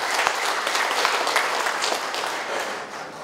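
Audience applause at a Bandung city government ceremony, a steady dense clapping from a large crowd that holds evenly for the whole span with no talk over it.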